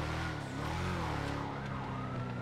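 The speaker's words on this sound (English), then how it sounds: "Okay, I hear a siren," A police siren wails in a police video game, rising and falling steadily and loudly for a couple of seconds, with no talking.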